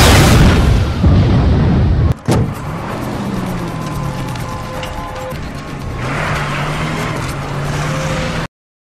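A gas cylinder blows up in a film scene, a single heavy boom with a sharp crack, followed by rumbling debris and a vehicle engine droning on as the noise fades.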